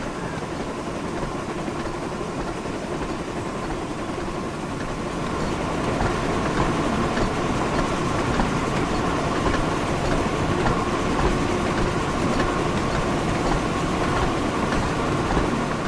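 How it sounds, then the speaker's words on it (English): A Thomas & Friends toy or ride train runs continuously along its track in Wonders of Sodor, giving a dense, steady rumble with faint rhythmic clatter that grows slightly louder partway through. "Like you can hear the track as well."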